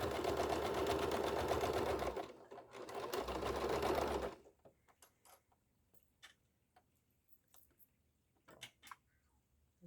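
A sewing machine runs fast and loud, stitching a synthetic leather wallet with a continuous whir, pauses briefly, runs again, then stops, leaving faint scattered ticks and clicks from handling.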